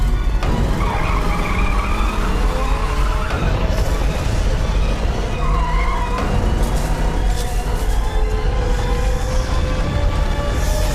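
A car speeds hard with tires skidding and squealing in a Hollywood movie chase, the engine roar and screeching tires loud and continuous, with voices talking over the action.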